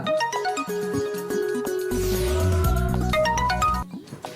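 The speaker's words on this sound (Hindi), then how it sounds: "अरे फोन आ गया" A melodic electronic phone ringtone plays, bright repeating notes with a swelling synthetic tune, fairly loud and without speech.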